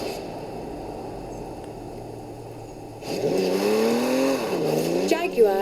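A Jaguar engine hums steadily while driving in Forza Horizon 4, then swells louder and revs up and down as the car accelerates, with a faint squeal near the end.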